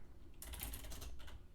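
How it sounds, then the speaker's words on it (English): Quick, faint bursts of gibberish typing rattle on a computer keyboard, a short run of clustered key clicks close by with no voices. "by typing gibberish."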